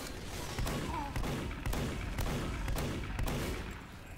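Gunfire in Team Fortress 2: rapid bursts of shots and thuds repeat throughout a busy online match, steady and fairly loud, with no speech over them.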